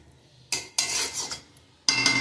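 Salted broken-rice dish is spread in a pot with a metal spoon, giving a few sharp scraping and clanking bursts separated by short quiet gaps, close and fairly loud.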